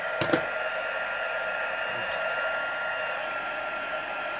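A craft heat tool blows steadily to heat-set paint, a continuous close whooshing hum with a couple of small knocks near the start.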